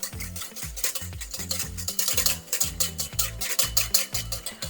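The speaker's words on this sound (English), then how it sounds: "Slow drizzle and just keep whisking." A whisk beating olive oil, added in a slow drizzle, into a jalapeño lime vinaigrette: fast, even, rhythmic metal strokes against a bowl, close and clear, with no talking.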